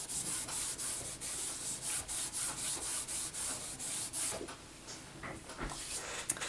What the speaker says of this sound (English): I'm going to go ahead and use my anti-static powder tool here, since I am going to be doing some embossing